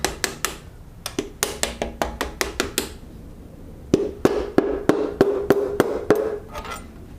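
A hammer tapping pistons down into an LS V8 engine block: a steady string of sharp, ringing metallic taps in close-spaced runs, with a short pause before a louder second series, close by with no talking.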